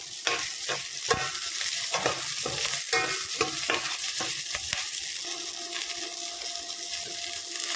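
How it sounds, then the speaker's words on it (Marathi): Chopped onion and half a tomato sizzling and frying in a pan while a spoon stirs and scrapes steadily, close and continuous with no talking. "आता त्यामध्ये अर्धा टोमॅटो घालायचा।"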